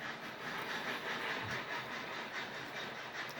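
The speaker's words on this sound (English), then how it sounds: "I'm not sure how many cars are on this train" A long model steam train of thirty-odd cars, double-headed and hauling diecast ore hoppers, rolls along a layout with a faint, steady rushing hiss and light rail clatter throughout.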